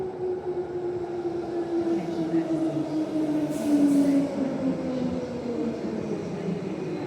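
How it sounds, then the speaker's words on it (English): A Midland line train sits at a Perth station platform, giving off a steady low hum with a slowly drifting tone and a slight swell midway, heard from a moderate distance with no talk. "you see a Midland train over there on platform 1"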